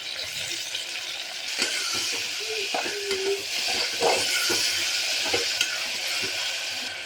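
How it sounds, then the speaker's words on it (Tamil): Chopped tomatoes sautéing in a pan for soya chunk biryani: a steady close sizzle with the scrape and clatter of stirring, loudest through the middle. "ஸோ இப்போ நம்ம கட் பண்ணி வச்சுருக்கிற தக்காளி சேர்த்துடலாம். சேர்த்து நல்லா வதக்கி விட்டுடலாம்."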